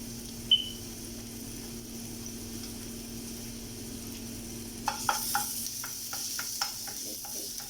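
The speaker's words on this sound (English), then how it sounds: "ginger saute a little so that we get full flavor of it" Chopped ginger sizzling softly in hot oil with a pinch of hing, a steady faint fry hiss under a few light spoon scrapes and taps near the end, no talking.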